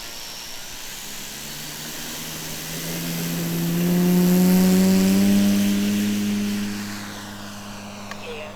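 An electric 1/5 scale P-51D radio-controlled model plane takes off, its motor whine rising and falling in pitch, swelling louder as it passes by, then fading again over steady outdoor background noise.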